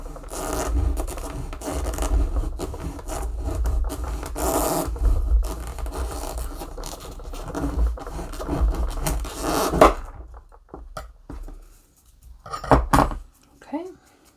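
Two small circles are cut down for a fisherman's basket craft, producing close, rough rasping and scraping strokes for about ten seconds, followed by quieter scattered knocks and handling noises.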